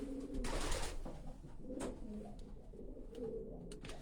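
A racing homing pigeon cock coos close by, soft low throaty calls repeating a few times over a quiet background, with a brief louder rustle near the start.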